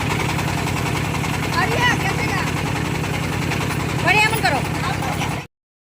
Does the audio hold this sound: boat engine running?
yes